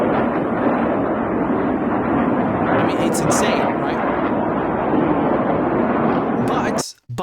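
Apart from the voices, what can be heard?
Hezbollah rocket salvo launching, played video footage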